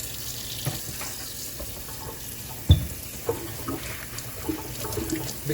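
Tap water runs continuously over a non-paper Mitsubishi cabin air filter being brushed and rinsed in a sink, a steady hiss with a few sharp clunks and splashes.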